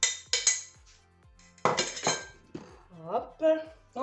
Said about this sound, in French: Moi, je mets tous les légumes en même temps. Voilà, je vais mettre mes légumes.